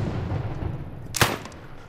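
A single heavy artillery blast from a World War I trench battlefield booms out close and loud over a low rumbling background, then fades away.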